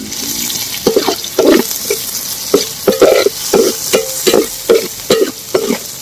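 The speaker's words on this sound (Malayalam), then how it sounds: "അപ്പോൾ അത് ഇടാൻ പോവാണെങ്കിൽ ഇത് നന്നായിട്ട് നമുക്ക് വഴറ്റിയെടുക്കാം" Half a kilo of chopped shallots sautéed and stirred in a pan for fish head curry, with a steady sizzle under repeated scraping stirs at a regular rhythm, close and fairly loud, no talking.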